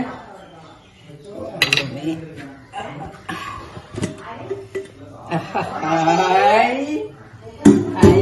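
A pressure cooker of kabsa opened on a home stove, with metal pots and utensils clinking in short bursts and a steam-like hiss, under steady nearby talk and a little laughter.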